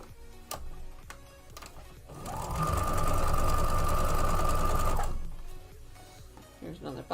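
A sewing machine stitches quilt blocks in one steady, loud burst of rapid whirring lasting about three seconds, with quieter handling noise and talk before and after.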